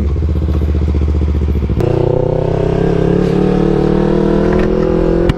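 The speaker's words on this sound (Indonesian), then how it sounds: "supaya motor ini bunyi, supaya keren lah" A loud motorcycle engine with an aftermarket exhaust idles with a deep, throaty exhaust rumble, then shifts to a higher, steady drone as the revs rise, close by.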